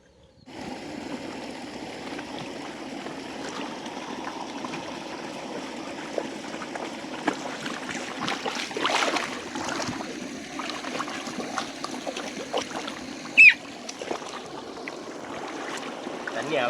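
Water pours and runs continuously around toy boats, a steady near trickling and splashing wash with brief louder splashes, while children's voices talk over it.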